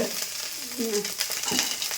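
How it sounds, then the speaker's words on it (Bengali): Small fish fry with onion and green chili in a pan, giving a low, even sizzle with a few soft tonal sounds over it. "এদিকে আমাদের ছোটো মাছ ভাজা শেষ একদম পুরো লাল লাল ভাজা হয়ে গেছে তো এবারে চলে গেল পেঁয়াজ লঙ্কা"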